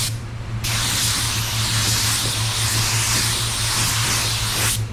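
A spray gun lays down candy red paint in a steady, loud, close hiss that starts abruptly and holds unbroken for several seconds over a low compressor hum before cutting off.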